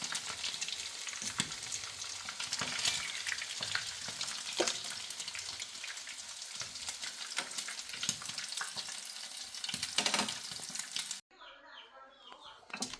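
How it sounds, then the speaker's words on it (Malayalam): Chicken pieces frying in oil for chicken kadai, a dense crackling sizzle with occasional scrapes, fairly quiet and steady, cutting off abruptly near the end. "അപ്പോൾ നമ്മുടെ ചിക്കൻ മുഴുവനായിട്ട് നമ്മൾ ഫ്രൈ ചെയ്തെടുത്തു"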